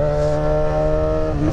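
A motor scooter engine revs hard and steadily, a loud droning hum with strong harmonics that holds the whole time, close up and with no talking over it.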